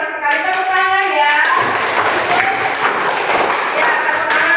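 Classroom applause at a junior high school as students clap together in a dense, sustained patter of hands, with children's voices mixed in at the start.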